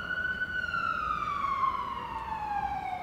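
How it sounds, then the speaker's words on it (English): A single emergency siren sounds in New York City, a clear gliding wail that sweeps slowly downward at moderate distance over low street rumble, with no voices. "You hear a siren in the background"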